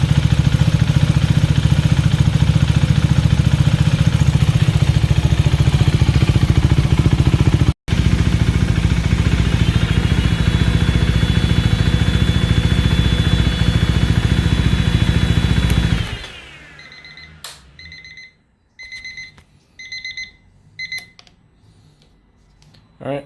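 A KTM Duke 390 motorcycle with a Powertronics ECU idles loudly and steadily during an idle relearn. Its note shifts partway through, then cuts off, leaving faint clicks and clatter.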